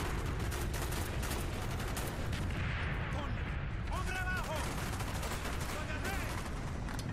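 Weapon fire rattles loudly in Call of Duty Black Ops gameplay, dense bursts over a thick din of battle noise, with some whistling tones rising partway through.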